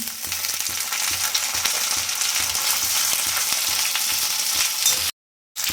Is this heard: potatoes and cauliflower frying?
yes